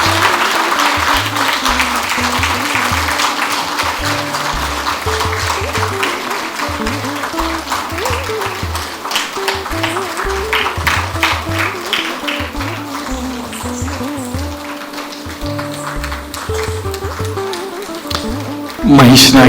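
An audience at a classical Indian dance performance applauds steadily and warmly for the dancers, dense clapping sustained throughout with a rhythmic beat running beneath it.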